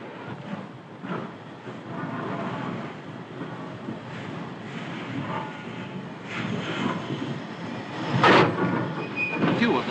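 Rail traffic at London Waterloo terminus in 1944, a steady rumble of trains and station bustle with a sharper metallic burst near the end, heard at moderate distance without talk.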